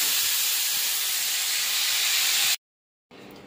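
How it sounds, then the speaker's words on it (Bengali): Squash slices frying in a home kitchen pan, giving a loud, steady broadband hiss and sizzle that cuts off abruptly near the end before fainter sizzling resumes. "করে নিই এখন কোয়াশ ভাজাটা।"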